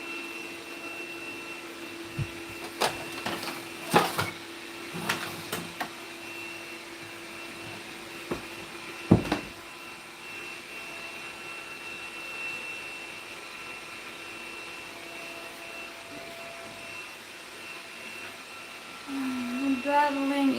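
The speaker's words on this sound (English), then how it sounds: "then it will be ready for vacuuming here too" A household vacuum cleaner runs through a home deep-cleaning session, a steady mid-level drone with occasional knocks and bumps and faint voices underneath, growing louder near the end.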